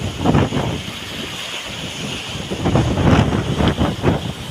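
Strong northeast monsoon wind buffets the microphone while waves nearly two meters high crash and surge in repeated heavy bursts, loud and close, with no voices.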